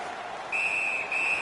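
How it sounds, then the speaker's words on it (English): A referee's whistle in the NHL 17 hockey video game gives one sustained, shrill blast that starts partway through and holds steady over the game's crowd and arena ambience. "Puck covered, whistle blown."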